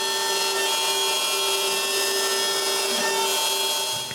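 A loud, steady power-tool whine runs without a break while trees are cut outdoors for wood to make bowls, a constant droning motor tone holding for the whole stretch before fading slightly at the end.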